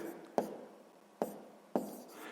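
Pen or chalk strokes while writing out a maths exercise: three sharp tapping marks spaced about a second apart, each followed by a short scratching trail, close and quiet.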